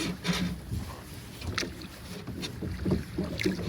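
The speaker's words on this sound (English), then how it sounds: "you're just paddling backwards and slowing us down" A canoe paddle dips and pulls through river water in soft, irregular splashes and gurgles, stroking backwards to slow the boat, with light wind noise on the microphone.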